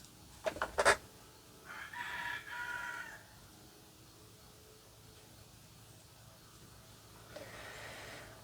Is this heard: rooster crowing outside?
yes